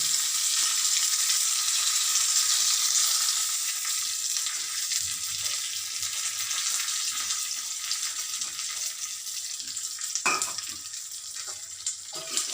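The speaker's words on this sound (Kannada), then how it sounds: "ಅದಕ್ಕೆ ಸ್ವಲ್ಪ ಕರಿಬೇವಿನ ಸೊಪ್ಪು ಹಾಕ್ತಾ ಇದ್ದೀನಿ." A tempering of Guntur chilli and curry leaves fries in hot oil, a loud, bright, continuous sizzle that eases slightly over time, with a brief clink near the end and no voices.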